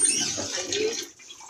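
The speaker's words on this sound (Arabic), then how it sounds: "وهنزود حبه ميه" A short splash of water pours into a pot, close and fairly soft, stopping after about a second.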